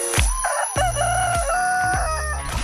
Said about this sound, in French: Le grand réveil au son du coq